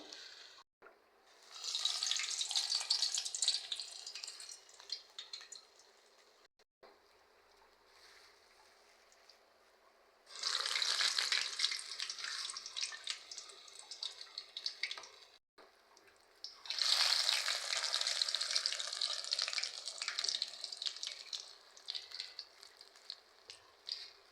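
Vada batter dropped into hot oil, the frying for curd vadas swelling into three long bursts of bright, crackling sizzle separated by quieter lulls, close and steady.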